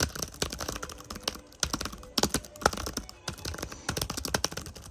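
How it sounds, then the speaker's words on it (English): Typing on a Logitech MX Keys for Mac keyboard with scissor switches: quick, fairly quiet key clicks in steady bursts with short pauses, close up, no talking. "you can tell this keyboard is a lot more quieter. Even though it uses like the same scissor switches."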